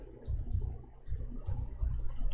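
Typing on a computer keyboard, a few short bursts of close clicking keystrokes separated by brief pauses, with a low steady background hum and no voices.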